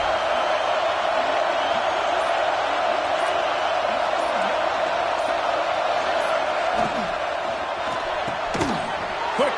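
A packed college football stadium crowd at a Georgia vs. Florida State game roars on a fourth-down play, a continuous loud wall of cheering and noise, with an announcer talking over it.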